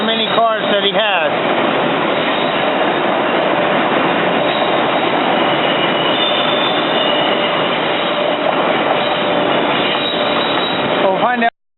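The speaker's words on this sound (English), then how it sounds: "We got another Amtrak train coming in." An Amtrak Northeast Regional train rolls through 30th Street Station, a loud, continuous roar of wheels and rails with brief squeals at the start and end, then cuts off abruptly.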